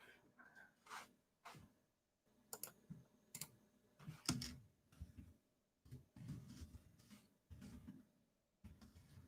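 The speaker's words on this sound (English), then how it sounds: "I'm typing." Computer keyboard typing in bursts of quick, faint clicks with pauses between them, fairly close and quiet, with some low background murmur.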